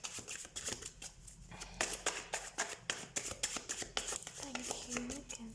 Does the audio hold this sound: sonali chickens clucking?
no